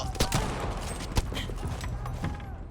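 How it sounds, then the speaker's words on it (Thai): Enemy gunfire in the co-op mode of the video game Battlefield V crackles in rapid, overlapping bursts of shots, steady and mid-distance, with a few louder cracks, while players talk over it. "มันยิงมาแล้ว"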